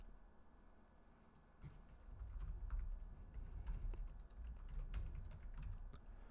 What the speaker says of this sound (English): if I pop open my console and I start typing